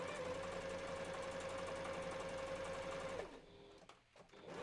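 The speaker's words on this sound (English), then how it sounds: "I was having trouble with my sewing machine. It's still having trouble!" An inexpensive home sewing machine that has been having trouble runs with a steady, even mechanical whir and hum for about three seconds, then winds down and stops, leaving a few faint clicks and handling sounds.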